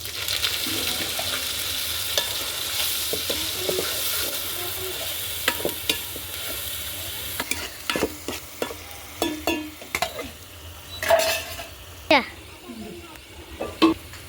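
Ginger-garlic, tomato and onion paste fries in a pan over a wood fire, a dense sizzling hiss at first that thins out, broken later by sharp spoon scrapes and clanks against the pot.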